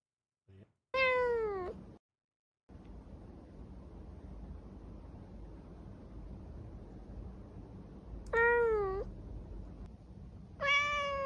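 A cat meows three times, each a clear rising-falling cry close to the microphone, with long gaps of faint background hiss between them.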